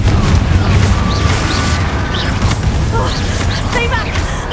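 Fiery spell explosions in Hogwarts Legacy, the Confringo blast, burst with a heavy boom and crackling rumble, followed by dense crashing debris under spell-casting voices and sparkling magical effects.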